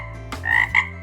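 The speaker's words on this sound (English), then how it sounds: "What sound does a frog make?" A frog croaks in a few short, raspy bursts with a deep resonant tone, close and fairly loud, with no talking over it.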